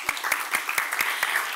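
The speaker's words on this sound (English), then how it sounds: "That definitely earns some applause." Applause from a gala audience in Washington, a steady wash of clapping with a few sharper individual claps standing out, fairly close and filling the room without any voices.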